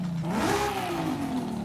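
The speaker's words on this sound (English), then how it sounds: "Oh, that turbo kickback." Forza Horizon 5 drift car with a maxed-out engine and roll cage, revving hard so the turbo engine note climbs and then eases off, loud and close, with no one talking.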